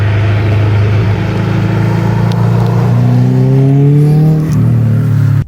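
Subaru WRX STi Blobeye tuned to 450 bhp, fitted with a Scorpion stainless steel exhaust, revving up steadily with a loud, rising engine note that climbs for several seconds before dropping back to idle, heard up close.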